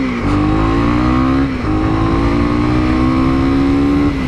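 A 2019 Honda CB300R motorcycle engine revs up through rising gear pulls, with a brief dip around a shift before climbing again, loud and close with no talk.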